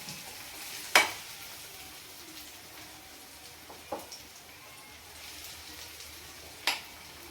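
Ginger garlic paste and onions fry in a pan for a chicken masala, a soft continuous sizzle broken by three sharp scrapes of stirring.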